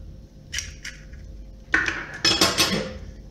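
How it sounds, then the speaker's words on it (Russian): An egg is cracked against a mixing bowl: a few short taps and clinks, then a sharper crack and brief scraping, close and quiet with no talking. "Сюда мы разбиваем одно яйцо."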